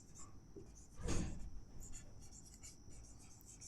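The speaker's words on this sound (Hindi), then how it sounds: "तो यहाँ पे हम लिख लेते हैं, सॉल्यूशन लिखेंगे" Hand-writing of a physics solution for a Class 9 motion problem on total distance covered: a single brief scratching burst of writing, otherwise a quiet room.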